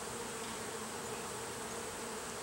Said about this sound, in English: That does have bees in it